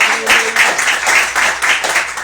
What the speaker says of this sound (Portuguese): Louve a Deus com uma salva de palmas bem alegre para Jesus.